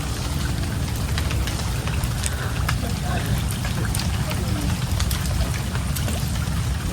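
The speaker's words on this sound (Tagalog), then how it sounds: "So yun, kunting pag-ulan lang pala dito" Rain falls steadily on a flooded farm in the middle of rural fields, a constant dense hiss with scattered drip and splash ticks, unbroken and fairly close throughout.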